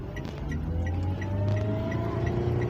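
A manual car pulls away slowly up an uphill incline, its engine giving a low, steady hum that gradually rises, with faint regular ticking alongside and no talk.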